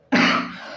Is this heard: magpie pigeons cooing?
no